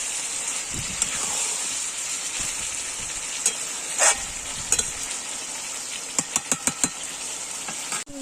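Chicken with coriander spice paste sautés in oil in a pan, a steady close sizzle running throughout, broken by a handful of sharp spatula clicks and scrapes toward the end, with no talking.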